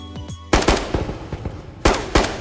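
Bursts of automatic machine gun fire in a VR extraction shooter game, Tarkov VR: a short quiet lead-in, then a loud volley of rapid shots, a pause of scattered rounds, and two more sharp bursts near the end.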